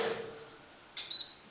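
A food dehydrator switched on, a short bright electronic beep after a soft rustle and a quiet pause, close and clear, with no talking.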